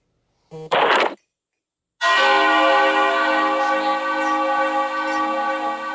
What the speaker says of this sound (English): According to that bell toll, it's 6 o'clock